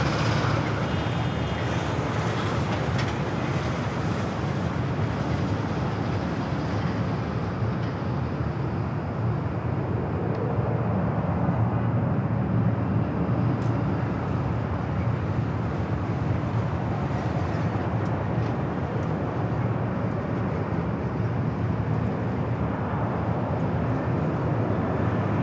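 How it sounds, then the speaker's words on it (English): An ANA Boeing 787 Dreamliner bound for Tokyo Narita rolls down runway 24 left at LAX, giving a steady, loud, continuous jet roar that stays even from start to finish. "ANA, the Dreamliner heading back to Tokyo Narita, rolling down the 24 left"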